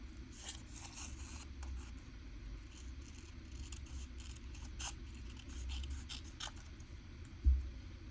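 Scissors cutting through paper scraps to make a label, a faint run of quick snipping and rustling close by over a low background hum, with no talking.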